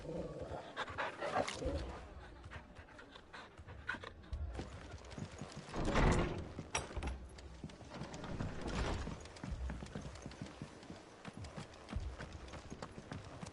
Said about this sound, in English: Mad dogs. A lot of them.